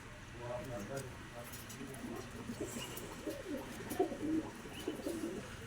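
Low cooing from crested pigeons rolls on steadily, several birds murmuring together, with soft background noise throughout.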